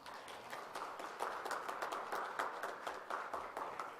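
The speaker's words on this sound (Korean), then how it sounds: "박수로 맞이해 주십시오" Congregation applauding a visiting pastor at a Wednesday church service, a continuous, moderately loud wash of many hands clapping that stays steady throughout.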